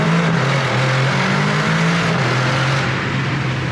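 An Aston Martin DBX707 SUV pulls away hard from first gear, its engine roaring loud and close with a steady climbing drone and no voices over it.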